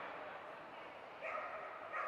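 Dog barking at an agility competition, short excited yips and bow-wows rising near the end over a steady crowd and arena murmur.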